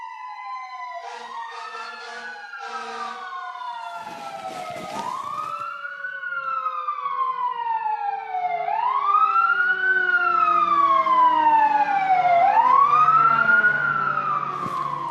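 An emergency siren wails in rising and falling sweeps as the vehicle passes, growing louder toward the end with faint traffic noise beneath.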